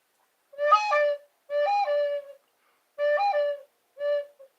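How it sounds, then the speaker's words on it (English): Four soft, hollow cooing calls in a slow, steady sequence, each a short repeated phrase with pauses between, fairly close and clear against silence. "Doves. I was wondering what made that sound."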